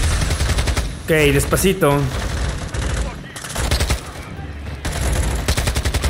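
Bursts of automatic gunfire and single shots ring out in the video game Call of Duty: Modern Warfare 2 during a campaign mission, loud and rapid, mixed with game sound and voices talking over the shooting.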